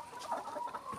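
Laying hens on a poultry farm give soft, close clucks in a quick irregular run, with no voices over them.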